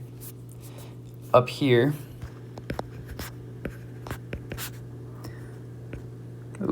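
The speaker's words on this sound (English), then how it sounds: "And I'm going to write this in there." Pen or marker scratching across a surface in short bursts of strokes and taps during a chemistry lesson, with a brief spoken remark near the start and a steady electrical hum underneath.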